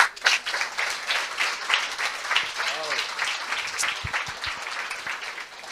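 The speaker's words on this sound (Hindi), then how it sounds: "पहले इस वचन के लिए ताली बजाएं" Applause from a church congregation after a scripture verse is read at a sermon, a steady patter of many hands filling the room, with a voice speaking faintly over it.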